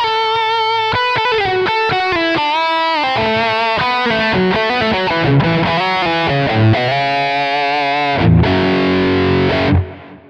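Electric guitar played through a captured Archer Klon-style clone overdrive at full gain, a continuous stretch of distorted chords and single notes, loud and alone with no talking, ending in a held chord that cuts off.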